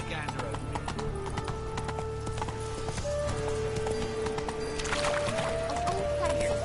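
Horse hooves clip-clop at a steady trot in The Witcher 3, close and continuous, while a voice speaks over them and music tones rise later.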